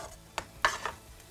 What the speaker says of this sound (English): Our fish at the back have got a nice sizzle on them.